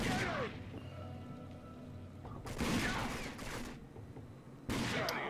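Gunfire in the video game Rage: dense bursts of shots crack out in loud clusters, with a brief lull between volleys before a sharp new burst near the end.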